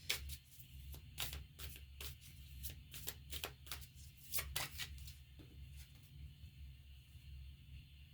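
Tarot cards being shuffled by hand in a quiet room, a series of crisp riffling flicks and soft rubs coming in uneven bursts across the whole stretch, close and fairly faint.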